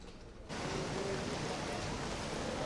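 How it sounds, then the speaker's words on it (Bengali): Heavy rain pours down on waterlogged Cox's Bazar, starting abruptly after a brief quieter moment and then holding as a steady, dense hiss of falling water. "কয়েক ঘন্টার বৃষ্টি, যেটি হচ্ছে ভারী বৃষ্টিপাত বিকেল থেকে শুরু হয়েছে।"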